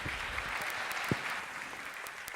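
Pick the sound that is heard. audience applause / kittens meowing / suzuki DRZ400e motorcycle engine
audience applause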